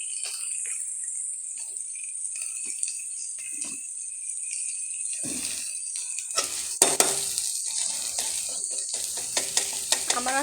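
Turmeric hits hot oil in a pan and is stirred, starting with a faint hiss and then breaking into a louder, crackling sizzle with scraping stirs in the second half.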